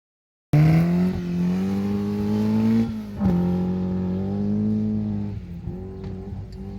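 Chevron racing cars in a paddock gymkhana at the marque's 40th anniversary: a loud engine drones and revs near, pitch rising and dipping through gear changes and throttle lifts, with no talk.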